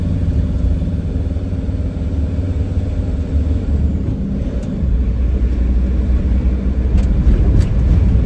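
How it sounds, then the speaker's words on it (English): A Sprinter van engine held at a 2000 rev limit labours steadily up a hill, a loud, continuous low rumble with road noise and a few faint clicks inside the cab. "we are back at the 2000 rev limit, so it'll be a slow old trip up this hill"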